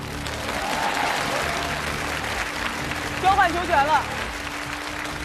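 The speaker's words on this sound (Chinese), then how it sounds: "来我们给双方球员点掌声好吧" Audience at a basketball game applauds the players, a steady wash of clapping from a crowd filling the hall while an announcer talks over it.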